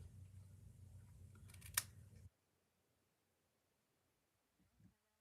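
Scissors cut through a strip of cardstock during a paper-craft card project, a steady close rasping snip lasting about two seconds with one sharper crunch, followed by near silence and a faint rustle.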